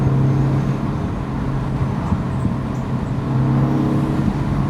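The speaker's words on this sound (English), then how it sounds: "You can hear the turbo spool up." A 2025 Mini Cooper JCW engine drones steadily with a low exhaust rumble and a faint rising turbo-spool whine, heard close up from inside the moving car.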